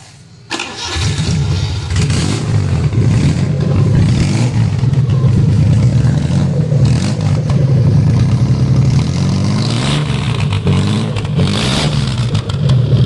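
A freshly overhauled Suzuki F6A three-cylinder engine starts and runs steadily outdoors, loud and close, with a throbbing idle and occasional revs.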